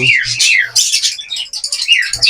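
Diamond doves and other small birds in a breeding cage, with loud, close bursts of chirping and tweeting that come in quick overlapping runs.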